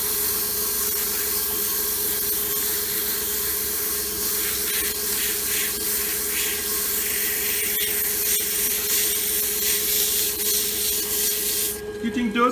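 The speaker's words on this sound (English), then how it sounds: "I personally sand from the top side." Sandpaper rubs against a wooden pen blank spinning on a lathe, a steady hissing scrape over the motor's constant hum, close and continuous, with a short change in the last second.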